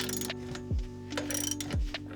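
A ratchet clicks in short bursts while undoing the bolts on a van seat. Two quick ratcheting runs sound close and fairly quiet, with small metallic knocks in between and no speech.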